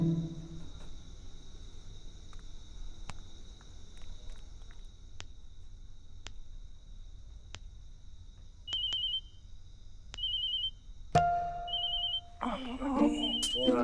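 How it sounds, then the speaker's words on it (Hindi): An indoor telephone rings at night in a quiet room: three short, faint trilling bursts, followed by a voice and some louder movement. "किसका फोन है?"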